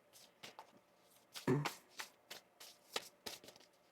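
Tarot cards being shuffled in a series of quick, soft riffling bursts, close by and fairly quiet.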